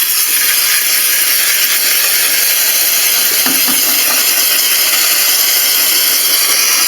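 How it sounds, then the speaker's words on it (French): Steam cleaner jet blasting into the drum of a washing machine, a steady loud hiss running throughout with a brief rougher spurt midway. "Je vais déjà commencer par mettre un coup de vapeur là-dedans."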